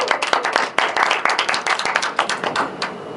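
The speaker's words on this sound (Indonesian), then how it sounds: "Boleh teman-teman tepuk tangannya?" Close, lively clapping from a small talk-show audience, uneven claps bunching together loudly and then thinning toward the end.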